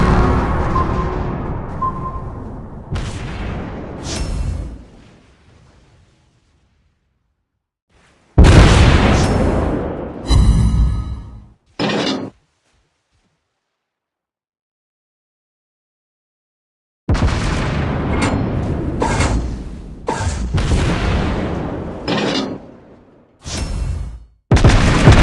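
Torpedo hits explode in a naval video game: a long rumbling blast that trails off, then a later burst of several heavy booms and sharp pops in quick succession, loud and close, separated by silent gaps.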